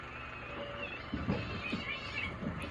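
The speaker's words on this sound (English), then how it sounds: "These cats. Oh my God, they're outside." Several cats meow outdoors, a few drawn-out, fairly close cries in quick succession over a steady background hum, with no talking.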